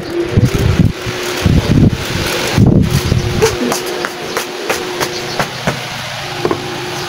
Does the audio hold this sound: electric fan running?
yes